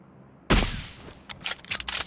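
Gunfire in a shooter video game sounds as one sharp, loud blast followed by a decaying tail, then a quick cluster of shorter shots near the end of the clip.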